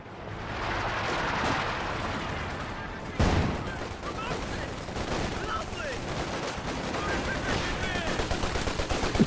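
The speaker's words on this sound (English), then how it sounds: "grenade going off, incendiary, forcing them out" Grenades and incendiary blasts go off around a trench system in Company of Heroes 2, with one sharp loud burst amid a dense, continuous rattle of gunfire and battle noise.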